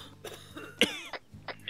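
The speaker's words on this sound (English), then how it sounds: "I hear you coughing." Over a voice-chat link during a multiplayer security-escort roleplay game, someone gives a few short, harsh coughs, one sharp and loud in the middle, with throat-clearing sounds around it, heard close and slightly compressed.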